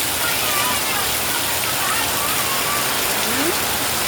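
Heavy rain pours down in Metro Manila, a dense, loud and unbroken hiss of downpour on surfaces, steady throughout with no pauses.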